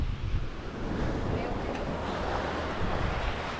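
Sea waves wash onto the beach at Playa del Carmen in a continuous broadband roar, mixed with strong wind buffeting the microphone, with no clear talk over it.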